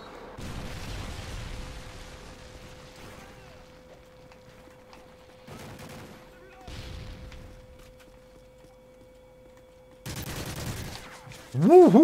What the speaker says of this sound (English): Who was shooting me?